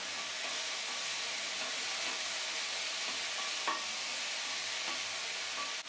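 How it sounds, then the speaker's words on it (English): Vegetables for soup stirred in a pot with pink Himalayan salt and capsicum, giving a steady moist sizzle and soft scraping for several seconds, close and continuous with no talk. "Give it a stir."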